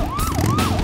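Police car siren in an animated film, a loud close wailing tone sweeping up and down in rapid cycles over rumbling vehicle noise.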